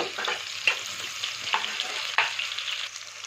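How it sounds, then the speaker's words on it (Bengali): Medium-chopped onion frying gently in a pan over a low gas flame, a soft continuous sizzle broken by three distinct scrapes of a spatula stirring, close and fairly quiet. "মাঝারি সাইজে কুচনো পেঁয়াজ একটাকে দিয়ে দিলাম হালকা হাতে নেড়ে চেড়ে"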